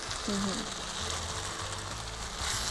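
Boiled chickpeas tumble into a hot frying pan and sizzle with a steady, moderate hiss, along with faint low background murmurs.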